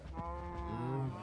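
A cow in the Minecraft game gives a single drawn-out moo, close and clear, with a rising tone that trails off, and no talk over it.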